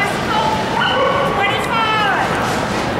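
Dogs yipping and whimpering in high, sliding calls over a constant background, with a short run of quick repeated yelps near the middle while people talk.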